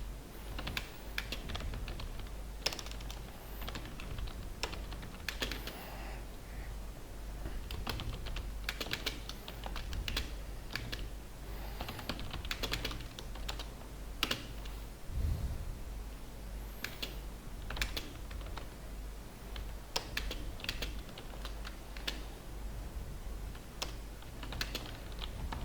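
Steady computer keyboard typing runs throughout, a dense stream of close, crisp keystrokes with a low background hum and no speech.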